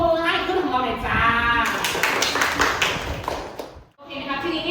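Students in a classroom applaud during a science lesson on waves, a burst of hand clapping mixed with voices and chatter, fairly loud and close, briefly dropping away near the end before resuming.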